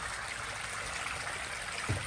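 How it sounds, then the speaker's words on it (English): Pond water being drained by a makeshift pump into a pool gives a steady, faint rushing and trickling wash, continuous and even, with one soft low bump near the end and no talk. "Draining the pond water from the pond, obviously, into the pool."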